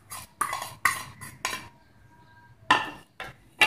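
Spoon clinking and scraping in a bowl while ground spices and garlic-ginger-onion powder are mixed, several quick metallic taps in bursts with a short lull in the middle, close and clear with no voices.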